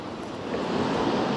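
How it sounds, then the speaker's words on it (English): Sea waves on the Blackpool promenade on a breezy, cool day, a continuous low wash of surf mixed with wind rumble that swells slightly midway. "I can hear the sea."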